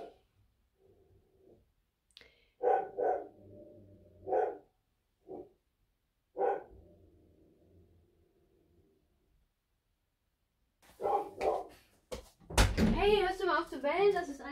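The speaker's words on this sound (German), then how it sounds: "hörst du mal auf zu bellen" A dog barks a few times, sharp bursts spaced a couple of seconds apart, with people talking nearby and louder talk toward the end.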